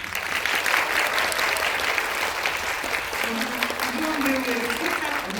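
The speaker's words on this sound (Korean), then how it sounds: "축하의 박수 한번 부탁드립니다" Steady applause from a theater audience celebrating at a film screening Q&A with the director and actors, continuous clapping throughout with a faint voice near the end.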